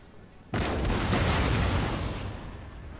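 Artillery fire in Napoleon Total War, a Napoleonic-era strategy game: a single loud, sudden blast with broad rumbling, followed by a long decaying roar and crackle over about two seconds.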